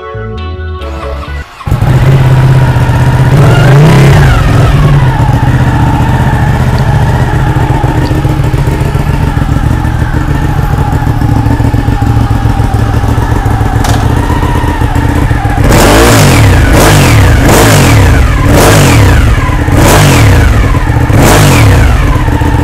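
Ducati 959 Panigale motorcycle with an aftermarket exhaust, its engine idling loud and close, then blipped in a run of sharp, rapid revs near the end, with no talking.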